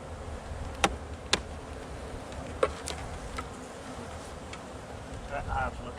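Honeybees drone at a low, steady level around an opened hive during a late-December inspection, with a few sharp clicks and knocks from handling the frames and a brief voice near the end.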